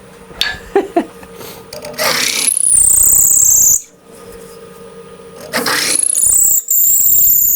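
A power tool trims wood off purple heart handle parts for a BBQ kit: a few knocks, then two loud, sustained whining bursts separated by a short pause.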